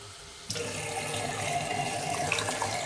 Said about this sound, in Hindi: 4 से 5 कप जो है ना वो मैं डालूँगी पानी के।